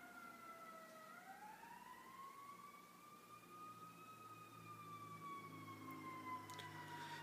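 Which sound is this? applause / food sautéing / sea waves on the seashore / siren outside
siren outside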